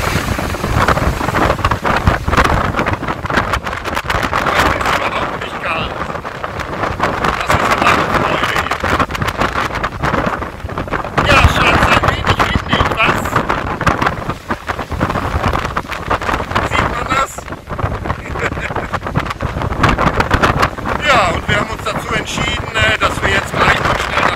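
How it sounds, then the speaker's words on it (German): Strong wind buffets the microphone at Ponta de São Lourenço on Madeira, a constant loud roar and rumble that runs throughout, with a voice talking underneath it. "windig haben wir es hier, ne?"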